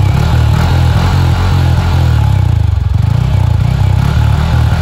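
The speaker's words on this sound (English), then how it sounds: "Listen to the exhaust note in 3, 2, and 1." A Yamaha MT-15 motorcycle's exhaust rumbles loud and close, a steady low throbbing pulse with a brief dip and blip in the middle.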